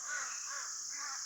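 Crows give a few harsh, rasping caws near a mountain temple in Mandi, spaced calls rising over a constant shrill insect buzz, fairly close and without speech.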